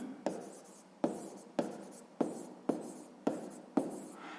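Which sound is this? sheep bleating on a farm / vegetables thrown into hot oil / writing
writing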